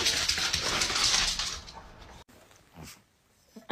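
A dog whimpers at bedtime, high thin whines that fade from a louder opening into quieter, broken whimpers with short pauses between them.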